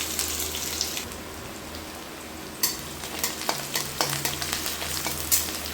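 Chili, cumin, garlic and onion frying in oil for kadhi give a steady crackling sizzle, with a sharp burst as fresh ingredients drop in midway followed by irregular stirring clatter and pops, close up with no talking.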